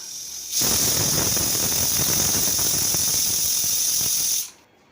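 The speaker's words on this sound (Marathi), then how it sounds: "कुकर चं झाकण लावूया आणि याला शिट्टी घालून एक वाफ आणून देऊया" A loud, steady hiss of steam bursts out of a pressure cooker abruptly, holds constant for about four seconds, then cuts off sharply.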